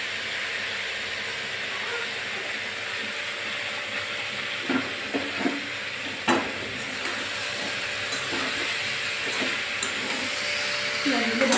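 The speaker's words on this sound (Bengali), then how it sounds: "পেঁয়াজগুলো ভাজা ভাজা হয়ে গেছে" Onions fry in a pan with a continuous soft hiss and sizzle, close by, punctuated by a few clinks and scrapes as they are stirred, while a voice talks over it.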